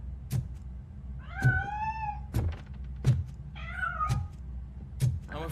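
A cat meows repeatedly, with several drawn-out, rising meows interspersed with sharp thumping knocks, all fairly close and clear.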